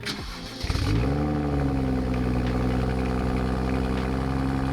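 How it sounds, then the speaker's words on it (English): A BMW 135is engine with an aftermarket exhaust revs up sharply, then settles into a loud, steady rumbling drone from the exhaust, close by, with no talking. "this exhaust, it looks great, and it sounds amazing"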